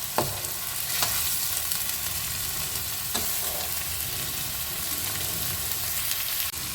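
Spices frying in a pan for a Bengali katla fish kalia: a steady moderate sizzle with a few sharp clinks of a spatula stirring against the pan.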